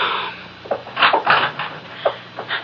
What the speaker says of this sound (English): Paula, please open the door, Dave.